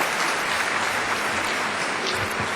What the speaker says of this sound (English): let's go ahead and give them another warm round of applause